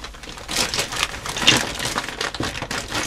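A small plastic bag crinkles and crumples steadily for about three seconds while being handled up close, with a bright, continuous rustle and no talking.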